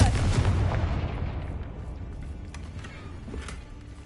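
A Confringo fire spell blast in the video game Hogwarts Legacy bursts loud at the start, then rumbles and decays over several seconds, with a fainter follow-up crack near the end.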